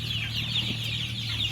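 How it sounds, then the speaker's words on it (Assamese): A flock of Sonali chickens on a poultry farm makes soft, overlapping clucks and chirps, a steady busy chatter at moderate distance over a low background hum. "চাওক ইয়াতে 550 সোণালী মুৰ্গী আছে।"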